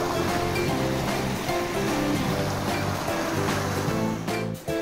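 Rushing river water near a bridge at Maldevta outside Dehradun roars as a loud, steady broadband wash that fills the whole clip, with faint tonal traces under it and a brief dip at the very end.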